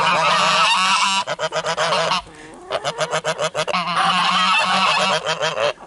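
Loud, close geese honking nonstop in a backyard poultry flock, a dense overlapping chorus of harsh calls with one brief lull before resuming.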